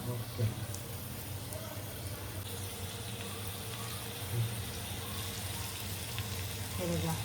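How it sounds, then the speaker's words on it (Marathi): A glass of water poured into a bubbling Agri-style jitada fish curry (kalvan), splashing and hissing against the hot gravy in a steady, continuous wash of sound. "मी एक ग्लास पाणी ऍड करते"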